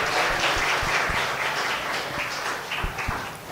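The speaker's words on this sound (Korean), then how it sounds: "다시 한번 우리 주님께 큰 영광의 박수 올려드리겠습니다." A church congregation applauds during a Korean Sunday worship service in Ho Chi Minh City, a dense, steady wash of many hands clapping that fills the room and tapers slightly toward the end.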